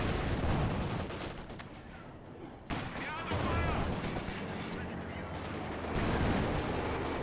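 Bursts of Vickers or Bren machine gun fire crackle through a World War II strategy game battle with a Panzer IV nearby, rapid rattling shots repeating under steady commentary and busy battlefield noise.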